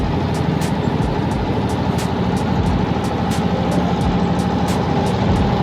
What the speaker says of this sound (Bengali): স্পিড বোট মানে স্পিডার বোট চলছে,